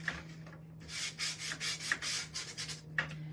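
The inside of an interchangeable frame is sanded by hand in a series of short, rhythmic rubbing strokes of sandpaper against wood, near and moderately loud over a low steady hum.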